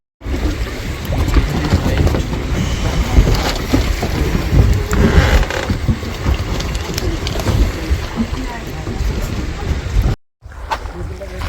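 A small wooden passenger boat crosses a river, giving a steady loud wash of water and motor-like rumble throughout, with some faint voices in the background before a brief cut near the end.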